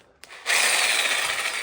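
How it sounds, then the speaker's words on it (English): A reciprocating saw cuts into an aftermarket part on a 1966 Dodge Monaco, starting with a brief click and then a loud, steady buzzing rasp that runs close and unbroken to the end. "We'll fix it with a Sawzall."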